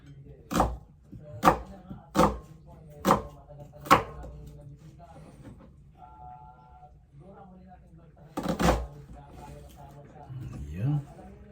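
A knife chops through onion on a cutting board in a home kitchen, five crisp evenly spaced strikes followed by a quick double chop later, close and clear, with a voice talking between the cuts.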